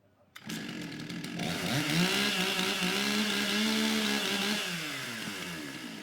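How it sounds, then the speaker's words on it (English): At a STIHL Timbersports competition, a chainsaw starts with a sharp pull and climbs to a loud, sustained revving whine as it warms up, wavering in pitch before easing slightly. "Okay, warm up your saw."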